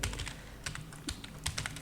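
Keys clatter on a computer keyboard during coding, in short irregular bursts of quick clicks with brief pauses between, fairly close and moderately quiet, with no voices.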